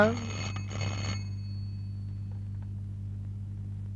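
A telephone rings in a police station, a bright jangling burst for about a second over a low steady electrical hum, then the ringing stops and only the hum remains.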